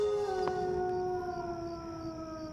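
A big wolf-like dog howling at night, one long sustained wavering tone that slowly falls in pitch, clear and moderately distant with no voices over it.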